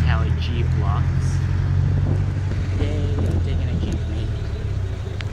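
A Philippine jeepney rumbles along in city traffic, a steady close engine drone with scattered street noise and passing sounds, while a voice speaks briefly over it.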